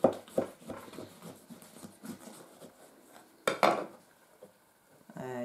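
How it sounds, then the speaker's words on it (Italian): A knife works through a cooled oven-baked spaghetti squash, giving quiet scattered clicks and thuds against a board with a louder clatter near the middle and faint kitchen rustling. "l'ho lasciata raffreddare e la vado a tagliare, diciamo magari così che è più facile."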